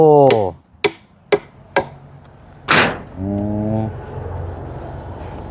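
Nails being hammered during outdoor building work, four sharp metallic strikes in quick succession, then a louder blow followed by a ringing tonal buzz, close and loud.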